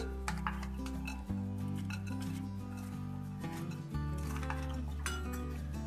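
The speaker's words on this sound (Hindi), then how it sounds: "इनको मिक्स कर लेंगे" Salad ingredients, including nuts, are tossed together in a bowl for a Russian salad, giving scattered soft clinks and scrapes beneath steady background music.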